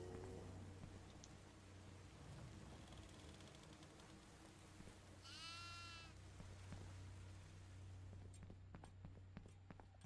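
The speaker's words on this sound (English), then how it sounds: "I heard another goat." A single goat bleats once in the horror video game Devour, a short wavering cry in the middle of a quiet, low-humming ambience with faint footsteps and small clicks around it.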